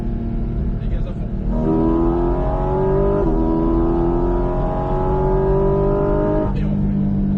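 A Porsche Cayman 718 GT4 RS at full throttle on the Mas du Clos circuit, its engine climbing steadily in pitch through a long loud pull with a brief shift partway, a voice coaching over it.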